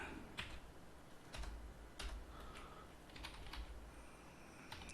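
Computer keyboard typing while writing C# code, a quiet run of scattered individual keystrokes and short clusters of clicks, close by, in an otherwise hushed room without speech.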